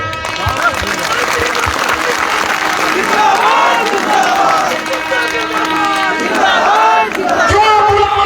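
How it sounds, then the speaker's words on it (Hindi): A large crowd at a political rally in Munger roars with cheering, clapping and shouting, a loud continuous mass of voices with speech mixed through it. "अब देख लो, ये जो भीड़ है जमालपुर शहर की भीड़ नहीं है"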